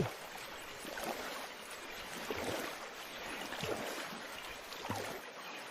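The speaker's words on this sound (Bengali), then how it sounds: "অনেক নৌকাতে চড়ে ঘোরা হয়েছে" A small rowboat gliding across a pond of water lilies, soft lapping and dipping water sounds with gentle wash, fairly quiet and steady, no talk.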